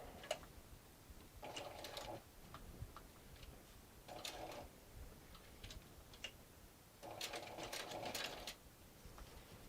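Sewing machine top stitching a sling bag at a long stitch length, running in three short bursts of rapid, even stitching separated by pauses with small clicks and handling noises, close and clear with no talking.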